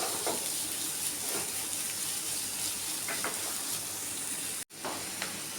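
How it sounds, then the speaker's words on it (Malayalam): Chopped large onion sautéing in hot oil, a steady close sizzle and hiss running throughout with a few faint stirring scrapes and a brief dropout near the end. "എണ്ണ ചൂടാവുമ്പോൾ ഒരു വലിയ സവാള അരിഞ്ഞത് ഒന്ന് വഴറ്റി കൊടുക്കാം"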